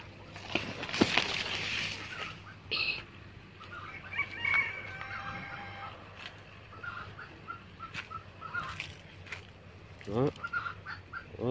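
Chickens clucking in a chicken pen on a rural garden property, scattered calls and a crow-like cry, near and moderately loud, with someone speaking at times.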